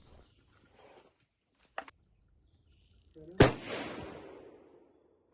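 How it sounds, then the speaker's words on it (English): A slightly undergassed gun fires its first test shot, a single sharp, loud crack with a long decaying echo, preceded by a brief metallic click and quiet background noise. "This is the first test fire here, and the gun was a little bit undergassed."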